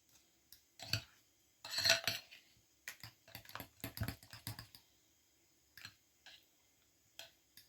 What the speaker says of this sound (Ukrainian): Так, мої хороші, оце я все хорошо розмішаю.